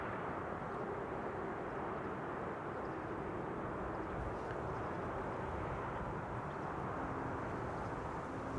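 An Airbus A321neo airliner lands at Amsterdam Schiphol Airport, a faint, steady distant jet roar holding evenly throughout with no voices.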